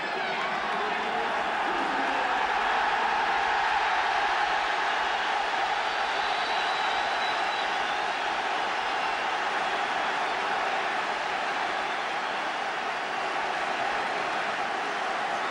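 Dense roaring football crowd of a packed stadium at a 1977 Everton versus Liverpool match, a constant broad wash of cheering and noise throughout, steady and loud.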